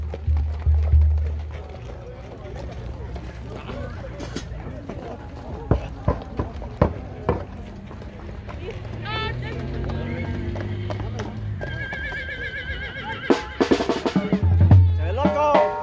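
A horse on a pilgrimage walk to the Virgin of Guadalupe clops its hooves in scattered bursts over a crowd murmur and passing voices, with louder thuds near the end.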